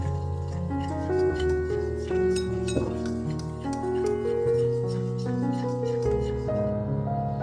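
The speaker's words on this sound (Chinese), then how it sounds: "再用打蛋器把麵粉攪出筋性" A wire whisk beats a flour-and-water batter in a bowl, giving light, quick clinks and ticks against the side, heard over soft background music.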